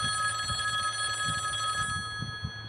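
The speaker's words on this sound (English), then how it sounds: "I would say it was around 8:30 when the phone rang" A telephone bell rings in repeated bursts in a living room, with a steady electronic tone running beneath; no one speaks.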